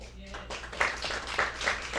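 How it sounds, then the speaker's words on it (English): Scattered audience clapping at a poetry slam at Catered Delight, fairly soft and uneven, rising slightly after the first moments and continuing briefly. "can y'all give yourselves a round of applause for coming out tonight?"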